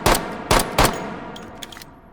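Three sharp pistol shots from an X16 in the H3VR virtual reality game, fired in a quick uneven burst within a second, loud and close, followed by faint mechanical clicks and handling sounds with no voices.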